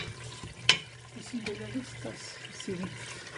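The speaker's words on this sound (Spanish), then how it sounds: "Está sofrito la cebolla con aceite, con sal y con azúcar un poco" Onion frying in oil with salt and a little sugar for homemade tomato sauce, a soft steady sizzle with stirring scrapes and one sharp clatter, while a person talks over it.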